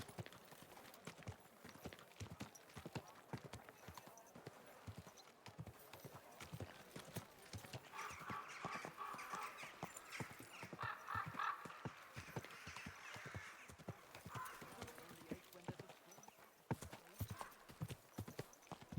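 Steady clip-clop of a horse's hooves trotting at an even rhythm in a video game, fairly faint, with a low background wash and occasional swells of noise.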